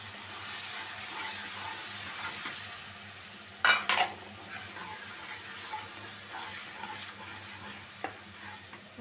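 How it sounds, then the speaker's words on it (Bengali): A spice paste with chili powder and a little water fries in a pan for a pabda fish curry, giving a low, steady sizzle. A spatula scrapes through it in a short burst midway and again near the end. "মশলাটা কষানো হোক।"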